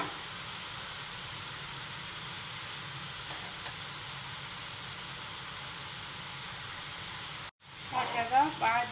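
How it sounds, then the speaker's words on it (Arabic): Okra toasts in a pot for an Iraqi okra stew, a steady low sizzling hiss that runs evenly, cuts out abruptly near the end, then gives way to brief speech. "بس تتحمص عندي البامية شوية"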